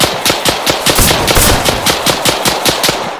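Loud, rapid automatic gunfire in Arma 3, enemy soldiers firing a fast rhythmic stream of sharp shots, about a dozen cracks in quick bursts with no pause and no talk.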